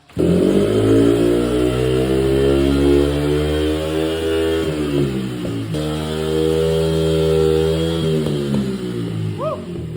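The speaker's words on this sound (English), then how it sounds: "He decided he wants to do a burnout." A Honda motorcycle engine revs hard and holds at a high, loud pitch, dropping briefly midway before climbing again, with a continuous roaring burnout whine throughout.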